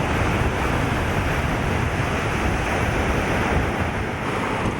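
Surf washes steadily onto the beach at Hadsakui Resort on the populated east side of a Thai island, a loud, continuous broadband roar of waves with gusty wind noise on the microphone and no voices.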